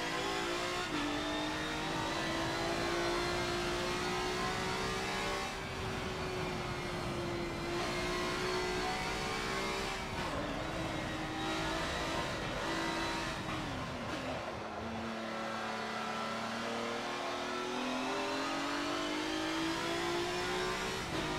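A race car in Forza Motorsport 7 held in second gear, its engine loud and close, revving continuously with rising and falling pitch and brief dips between gears.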